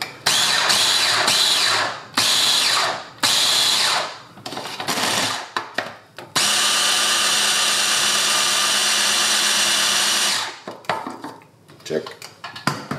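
Blender mashing tofu for tofu brownies, whirring in loud bursts that start and stop, then one long steady run of several seconds, followed by quieter clatter.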